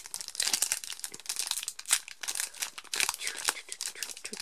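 Foil Pokémon card booster pack being ripped open by hand, a dense run of close crinkling and tearing rustle lasting several seconds with brief pauses, with a voice briefly heard.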